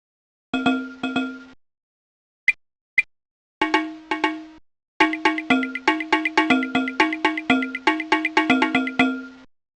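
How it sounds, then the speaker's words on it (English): Bright metallic cowbell-like dings in a Fisher-Price kindergarten educational game, a few isolated strikes followed by a fast, rhythmic run of repeated clanging notes, clean and close with no voices. "How many cows were ringing their bells?"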